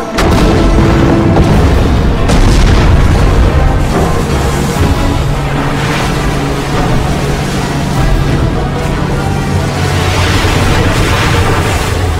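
Ships' cannons firing and explosions in a dubbed adventure movie battle, a continuous loud roar of booms and blasts layered over a heavy rumbling score.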